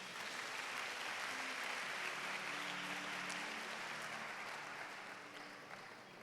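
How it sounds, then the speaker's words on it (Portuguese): A church congregation gives a round of applause, a steady wash of many hands clapping at a distance with a faint low hum underneath, slowly fading toward the end. "Dê uma salva de palmas."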